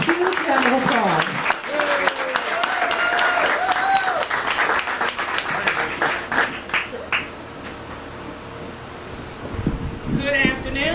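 Audience applause at a Queen Anne's County Public Schools Teacher of the Year ceremony, loud sustained clapping that fills most of the stretch and tapers off near the end, with voices mixed in.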